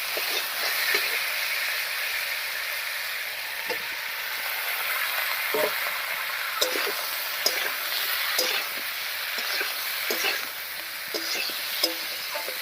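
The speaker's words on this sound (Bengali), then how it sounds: "এবার এর মধ্যে ভেজে রাখা ফুলকপি দেবো" Fried cauliflower pieces are tipped into hot oil with ground chilli paste and stirred, giving a steady bright sizzle with soft scraping and clacking of the spatula at irregular intervals, close and continuous with no voices.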